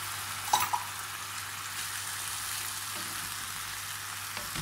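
Oil sizzling in a pan while swordfish sauce is stirred, a steady close frying hiss with a couple of brief clinks of the spoon early on.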